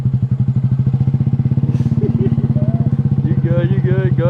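A motorcycle idles with a steady close-up rumble as the clutch is let out and the bike pulls away with a learner riding, while people talk over the engine.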